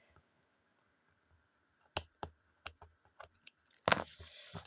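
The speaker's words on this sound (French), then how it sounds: "On coupe." Paper being cut for a scrapbooking craft, with a string of crisp close snips and clicks, sparse at first and then quickening into a louder crunching rustle near the end, with no talking.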